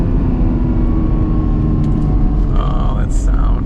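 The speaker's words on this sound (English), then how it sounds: "The sound of this flat 12." A 1987 Ferrari Testarossa's flat-12 engine idles and burbles with a deep, steady rumble, close and loud, as a voice speaks over it near the end.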